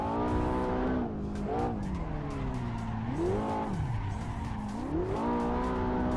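A Ferrari drifts in the Assetto Corsa racing game, its engine droning loudly and continuously with rising and falling revs while the tires squeal and skid throughout.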